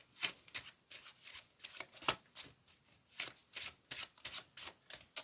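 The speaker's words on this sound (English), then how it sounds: "I will even give the packet a shuffle just to make sure it's completely lost." Crisp riffling bursts of a deck of playing cards being shuffled, several quick ruffles in a row, close and fairly quiet.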